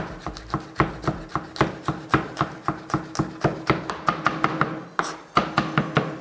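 A knife chops through habanero pepper flesh on a board, about two dozen quick, close, crisp strikes in a steady, even rhythm with one short pause, no talking.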